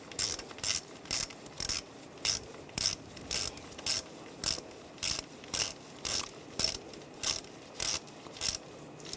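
Ratchet clicking in steady regular bursts as valve cover nuts are tightened on a 2001-2006 BMW 325Xi, about a dozen short clear strokes close by with brief pauses between.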